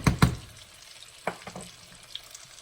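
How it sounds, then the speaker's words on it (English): Chili rellenos frying in vegetable oil, with two sharp knocks at the start followed by lighter clinks and a quiet background sizzle, close by. "You can use peanut oil, you can use lard, you can use anything you'd like to fry them"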